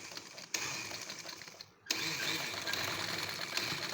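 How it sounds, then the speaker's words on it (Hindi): Domestic sewing machine running steadily while stitching a patti onto a kameez, a fast whirring buzz that pauses briefly, then resumes, close and alone. "ये आपने यहाँ से सिलाई स्टार्ट कर दी।"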